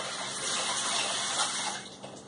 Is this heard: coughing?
no